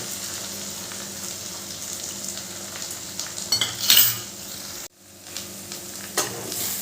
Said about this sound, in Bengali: সেই ডিমটা এবার আমি দিয়ে দিলাম এই মাঝখানটাতে